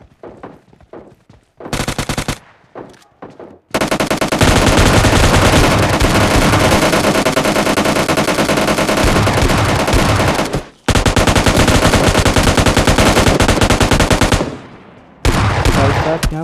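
Loud gunfire in a battle royale game, with a few scattered shots followed by long bursts of rapid automatic fire broken by short pauses, close and dominant with no voices.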